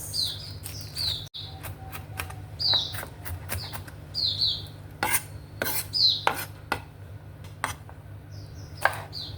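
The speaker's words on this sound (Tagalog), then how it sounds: "Gayatin natin ng sibuyas." Onion being sliced with a knife, a series of separate crisp cuts and board taps at an irregular pace, with bird chirps and a low steady hum behind.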